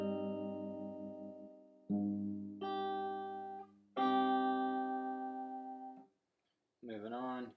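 A measure of a song on fingerstyle guitar, with bass notes and open high strings plucked in four distinct ringing attacks, close and clean, then a pause and a short burst of speech.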